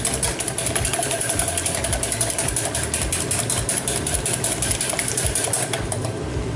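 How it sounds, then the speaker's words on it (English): Two large eggs are whisked in a bowl for a pasta carbonara, a fast, continuous, rhythmic clatter of whisk against the bowl, fairly loud and close, running steadily for several seconds with no talk. "Gonna whisk those up very nicely."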